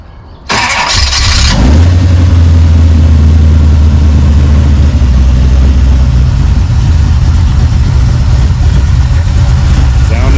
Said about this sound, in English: This small block, and let's hear it run.